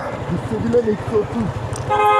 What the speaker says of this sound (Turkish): Sen kornaya basarsın.